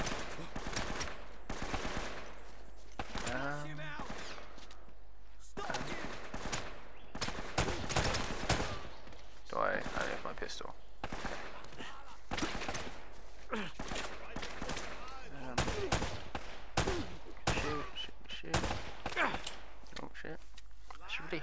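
Rapid bursts of gunfire from the action game Uncharted: Drake's Fortune, with repeated sharp shots and volleys across a firefight, mixed with game sounds while a player talks over it.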